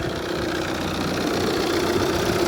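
A Volvo diesel car engine idles cold with a steady, rough clattering rumble, close and continuous with no voices.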